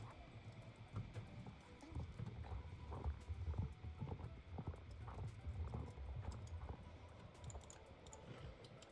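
Hooves of a racing horse clip-clop in the Star Stable Online video game, a quiet, steady rhythmic patter of steps over soft background game ambience, with no one speaking.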